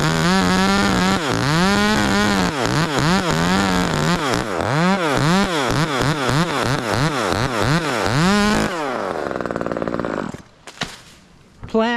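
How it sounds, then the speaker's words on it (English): An Echo 2511 chainsaw screams at full revs while cutting a pine limb up a tree, its pitch rising and dipping in repeated rapid sweeps as the chain bites, then dropping away near the end. "I'm keeping the saw at its peak speed, so I don't want it to die"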